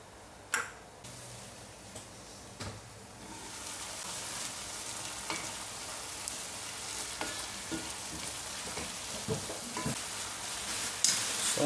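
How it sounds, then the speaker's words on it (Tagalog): Fresh tomato cooking in a pan with a soft, steady sizzle that swells after a few early clicks and knocks, with occasional light taps of utensils near the pan. "Lutuin natin guys ang fresh tomato bago natin i-add ang ating beef mince."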